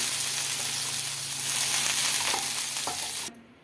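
Loud steady sizzling and hissing of water sprinkled onto a heated dosa pan, with a few faint clinks, cutting off abruptly near the end.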